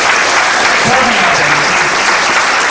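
Loud, steady applause from an audience at a business motivational session, clapping continuously and filling the whole stretch, with a voice briefly heard over it.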